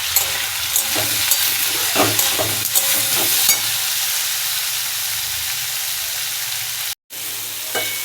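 Onion frying in a pan for a Bengali curry gives a loud, steady sizzle and hiss with occasional stirring scrapes, briefly cutting out before the sizzle resumes.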